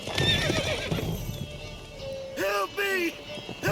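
Roach, the horse in The Witcher 3, clip-clops along and lets out a loud whinny near the end, with a voice talking over the hoofbeats.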